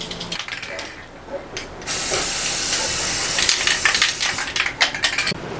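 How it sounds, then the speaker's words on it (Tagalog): A spray paint can hisses in a small room, with clicks and rattling at first, then a long steady spray burst that breaks into shorter sputtering bursts near the end. "Ito yung brand ng spray paint na gagamitin ko."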